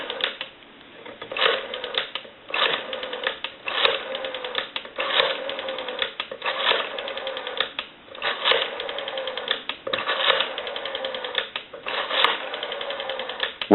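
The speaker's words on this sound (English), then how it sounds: "And now what we can do is dial our numbers out." Rotary dialing on a Western Electric 302 desk telephone under repair: repeated bursts of rapid mechanical clicks as the dial returns, separated by short pauses between digits, heard close and narrow-toned as if over the line, with no talking.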